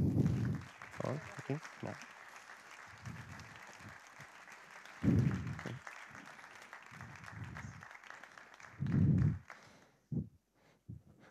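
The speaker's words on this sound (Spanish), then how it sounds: "Un aplauso para ellos" Scattered applause from the audience at the inauguration of Mobile Week Alcalá 2022 at the Universidad de Alcalá, moderate and uneven clapping running through the clip with repeated louder bursts of speech over it.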